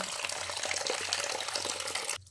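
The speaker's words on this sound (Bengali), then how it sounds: "এবার আমি এর সঙ্গে আরও একটু জল মিশিয়ে নিচ্ছি।" Water poured into tamarind pulp water in a kitchen, a steady splashing gush for about two seconds that stops abruptly, close and moderately loud, with no voices.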